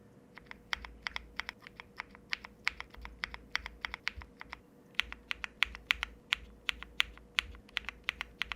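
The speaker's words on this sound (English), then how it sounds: "some keys scrape up against the case because of the rounded corners" Keys clack in a fast, steady run while someone types on a Keychron Q1 mechanical keyboard whose keycaps scrape against the case. Crisp, close keystrokes sound alone over a faint low hum.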